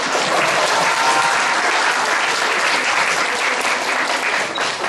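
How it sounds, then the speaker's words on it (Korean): An audience at a school fusion concert of talks breaks into loud, sustained applause, a dense steady wash of clapping from a large crowd that carries on without a break and has no talk over it. "박수 부탁드립니다"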